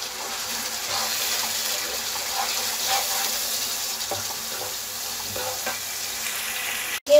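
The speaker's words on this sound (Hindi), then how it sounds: "अब हम इस मसाले को भून लेंगे।" Coriander powder, garam masala and turmeric frying in a pan for palak paneer, giving a steady close hiss with faint crackles and no talk, ending in a brief clatter.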